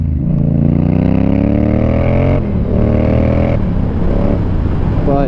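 A motorcycle ridden on the road at night, heading to a bike night in cold weather, its engine rising loud and close through the gears with two clear shift breaks before revving on.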